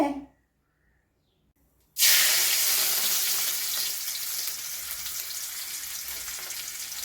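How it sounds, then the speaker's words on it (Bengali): Washed matta rice dropped into a hot pan to make puffed rice, bursting into a loud, continuous sizzling hiss after a short quiet start, close by and steady. "এবার মুড়ি তৈরি হচ্ছে এখন।"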